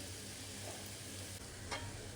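Leafy greens (shak) fry in oil in a pan with a steady, soft sizzle, and a spatula stirs and scrapes once near the end. No one speaks.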